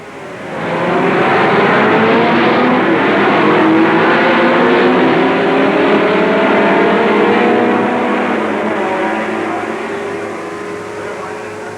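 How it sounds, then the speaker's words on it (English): Several 1960s Grand Touring racing cars, including E-Type Jaguars and Ferrari Berlinettas, roar loudly and steadily as engines rev together on the starting grid, a dense sustained rumble with no talk. "2 E-Type Jaguars and 2 Ferraris Berlinettas share the front row of the grid."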